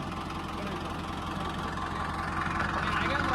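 A vehicle engine idles close by with a steady, rough, continuous rumble, while voices talk over it.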